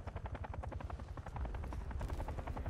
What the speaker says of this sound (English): helicopter's right there